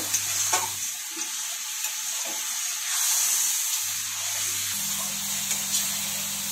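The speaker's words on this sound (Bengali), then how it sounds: "সামান্য একটু জল দিয়ে মশলাটাকে কষিয়ে নেব।" Spice paste for a small fish curry with Kashmiri chili powder fries in a pan with a little water, giving a hissing sizzle with a low hum and occasional stirring taps.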